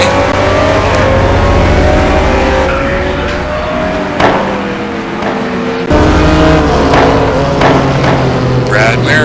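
Race cars in a GT1 sim racing game accelerate onto the start-finish straight at Anderstorp, engines roaring loudly with rising and shifting tones and a brief gear-change dip midway, close and continuous throughout.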